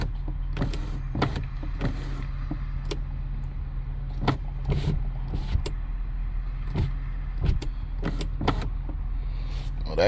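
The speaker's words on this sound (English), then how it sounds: "Lift that back up. Up and down. The windows do work." The electric windows of a supercharged Range Rover run up and down with a low motor hum inside the car, broken by several sharp clicks and thuds; no speech.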